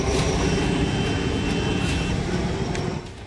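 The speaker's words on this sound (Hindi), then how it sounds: "जंगल और पहाड़ी इलाकों में हर तरफ हेलीकॉप्टर की गड़गड़ाहट सुनाई दे रही है।" A helicopter rumbles over forested hill country, a dense, steady, loud roar of engine and rotor noise that fills the whole stretch and fades slightly at the end.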